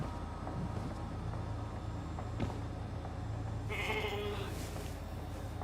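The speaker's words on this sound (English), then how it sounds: "Never thought I'd be so glad to see a sheep." Sheep bleating inside a survival crafting video game, a short bleat standing out near the end over a steady low game ambience and background music.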